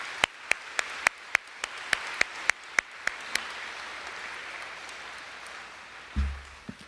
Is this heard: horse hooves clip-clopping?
no